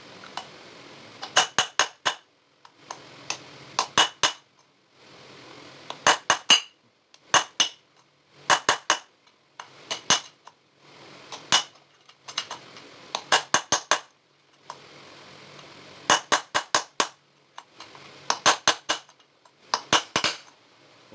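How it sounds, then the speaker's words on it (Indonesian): A hammer strikes a steel rod to knock out a motorcycle bearing, sharp metallic clinks in quick bursts of three to five blows separated by short pauses, close and clear with no talking. "Untuk memukulnya pindah-pindah ya teman-teman ya."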